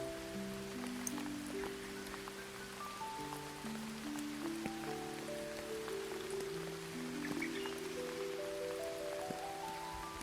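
Steady rain hisses as a soft, even patter while gentle sustained music tones drift over it, the whole scene quiet and calm throughout.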